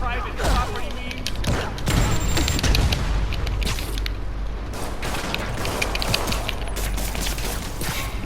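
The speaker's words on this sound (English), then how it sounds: "More rockets? A little excessive" Rocket explosions and gunfire in the PS4 game Marvel's Spider-Man: loud, dense bursts of shots and heavy booms that run continuously, with a voice speaking at moments.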